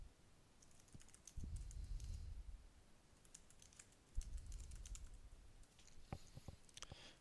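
Faint, close typing on a computer keyboard: soft irregular key clicks and patters that come in clusters with short pauses between them, with no voices.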